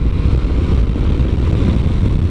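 A motorcycle in fourth gear at about 3,000 rpm as the throttle is rolled on in A mode: a loud, steady low engine roar with continuous rumble, building hard, close up and alone without speech.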